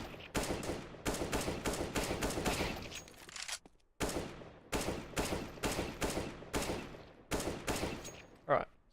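Rapid single gunshots in CS:GO headshot aim practice, sharp taps fired in quick rhythmic clusters with a short pause midway, loud and close with no talk.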